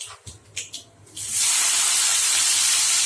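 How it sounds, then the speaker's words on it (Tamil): Mustard seeds dropped into hot oil for a Tamil prawn dish: a few brief taps and pops, then a sudden loud, continuous sputtering hiss that fills the rest of the moment up close. "கடுகு போட்டுக்கலாம் கடுகு பொரிஞ்சிடுச்சு"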